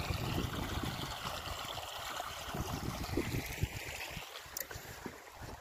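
Irrigation water runs steadily into the beds of a maize field from a motor pump, a continuous soft rushing and gurgling with no talk.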